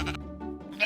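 Minecraft sheep bleating in a short, wavering cry that rises and falls, close and clear with nothing else around it.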